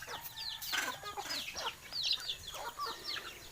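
Native chickens cluck and chatter in a lively, overlapping cluster of short calls, moderately close, against faint background noise.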